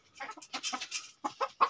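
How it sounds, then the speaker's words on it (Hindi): A brooding hen sitting on eggs clucks in short bursts close by, a run of soft calls followed by a couple of separate clucks after a brief pause. "मुर्गी जो है ना एक हमारी बैठी हुई है इधर"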